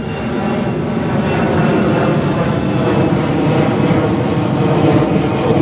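A loud airplane passes overhead, its steady engine roar filling the whole stretch without a break and without voices.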